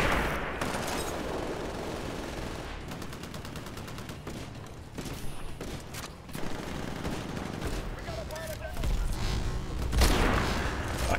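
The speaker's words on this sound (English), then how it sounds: "Oh, so many bullet noises." Rapid machine-gun fire and explosions fill the Titanfall video game battle in continuous overlapping volleys, with booms growing louder toward the end.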